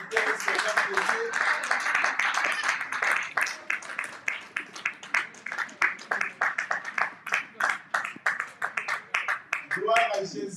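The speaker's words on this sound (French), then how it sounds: "Acclamons pour ces futurs serviteurs du Seigneur de Dieu" A church congregation at a Sunday service claps and applauds, a dense round of hand claps that thins toward a rhythmic beat, with voices calling out and speaking over it.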